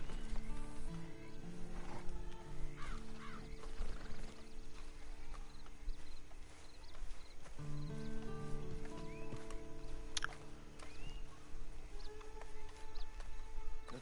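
Red Dead Redemption 2 horse sounds: steady hoof clip-clops with occasional snorts, faint and continuous over a low ambient backdrop.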